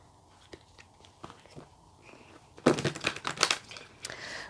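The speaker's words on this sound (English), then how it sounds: "Let's give them one more shuffle." Tarot cards crinkle and riffle softly up close, quiet scattered rustles giving way to a louder burst of rapid shuffling snaps near the end.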